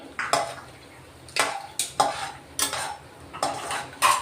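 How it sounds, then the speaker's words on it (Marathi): Cashews frying in a pan on low heat, heard as a string of spaced utensil scrapes and clinks against the pan over a faint background sizzle. "आता आपण आता काजू तळून घेऊ थोडे"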